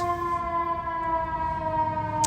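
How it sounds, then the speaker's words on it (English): Ambulance siren sounding loud and steady, a sustained wailing tone held throughout with no talk. "ambulance."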